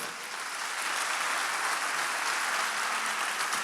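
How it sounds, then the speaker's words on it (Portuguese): A church congregation applauds during a service, many hands clapping in a dense, continuous roar that holds steady throughout, with no voices over it. "Dá uma salva de palmas a Ele."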